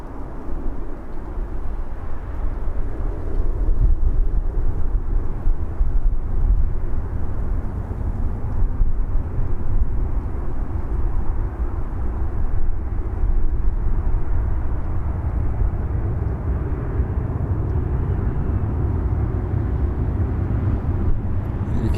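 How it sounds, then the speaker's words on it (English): A Ryanair airliner at Birmingham Airport rumbles steadily in the distance, a broad low roar that holds fairly constant throughout. "You can make out the rumble of that Ryanair. It's making a right old racket."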